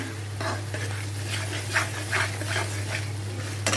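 Chicken with spice masala being sautéed and stirred in a pan: a steady sizzle with repeated scraping strokes of a spoon against the pan, close and continuous, with a low constant hum underneath.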